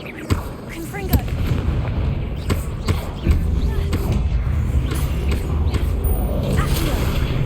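Confringo blasting spell in Hogwarts Legacy, striking statues: a run of sharp booming blasts and thuds over a low rumbling game bed, with a voice speaking intermittently.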